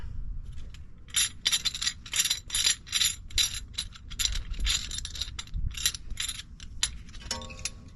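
Rear brake caliper hardware on a 2010–2014 Subaru Outback 3.6 being tightened with a ratchet, giving a close run of rapid metallic clicks and clacks in short bursts over a low workshop hum.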